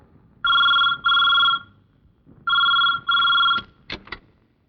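A telephone rings in a Malayalam film scene, two double rings of a classic electric bell separated by a pause, loud and close, ending in a few short clicks as it is picked up.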